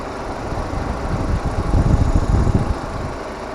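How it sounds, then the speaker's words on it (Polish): Audi A4 S-Line 1.8 turbo engine idling: a steady, even, loud low rumble heard up close with no talking. "Silniczek pracuje cichutko, równiutko."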